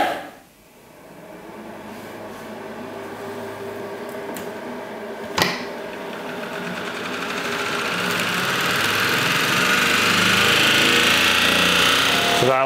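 A homemade generator driven by a motor spins up toward about 2200 to 2500 RPM, a whirring mechanical hum that rises and grows steadily louder after a brief sharp knock partway through, with no voices.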